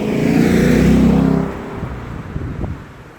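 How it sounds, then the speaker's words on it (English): A deep engine rumble from the stock exhaust of a 2016 Ford Mustang GT convertible, loud for the first second and a half, then settling into a lower idle with a few small pops. "even though it has stock exhaust, still rumbles"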